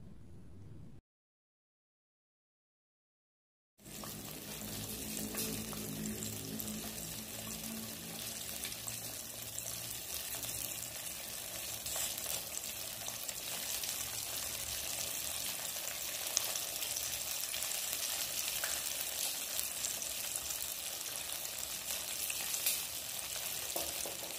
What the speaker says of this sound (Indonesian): ini akan saya goreng sampai dia golden brown